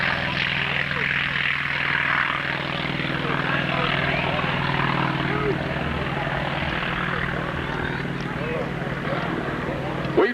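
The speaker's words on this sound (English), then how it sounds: "here's the T-28 Trojan with Larry Lysia" A T-28 Trojan propeller plane flies at the 1993 Chatham Ontario Kinsmen Airshow, its steady, droning engine hum holding at an even level throughout while an announcer talks over it.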